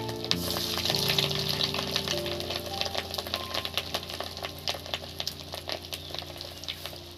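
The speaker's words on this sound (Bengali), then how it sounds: "বন্ধুরা আমার বড়া ভাজা কমপ্লিট হয়ে গেল, মাছের বড়া।" Fish roe fritters fry in hot oil, giving close, lively crackles and pops over a steady sizzle, with a faint tonal hum running underneath.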